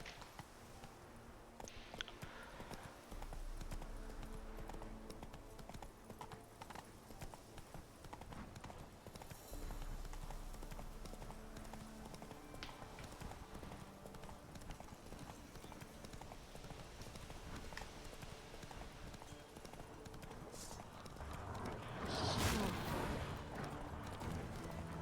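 Roach, a horse in The Witcher 3, gallops with steady clip-clopping hooves through the whole stretch, joined by rumbling in-game ambience and a brief louder swell near the end.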